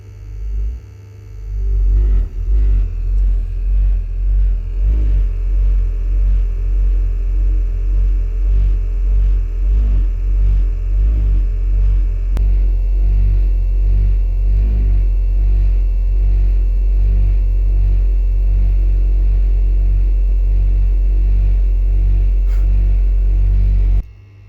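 A serviced gas boiler produces a loud, steady low rumble with a pulsing throb that starts abruptly, holds for over twenty seconds, then cuts off.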